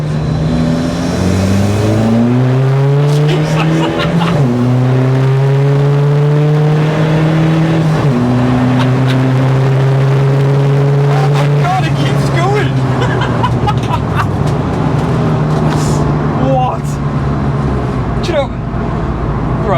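SEAT Ibiza FR TDi diesel track car with 250bhp accelerating hard on a straight road, engine note climbing steadily through several gear changes, loud and close from inside the cabin.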